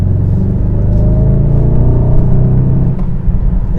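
A 2022 Mercedes-AMG GLS 63 engine rumbles deep and steady while driving, a low continuous growl heard from inside the SUV with no talking.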